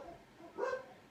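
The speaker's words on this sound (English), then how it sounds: "The dogs barked." Dogs at a house bark at a visitor arriving: one short muffled bark rises out of quiet room tone, fairly faint and slightly distant.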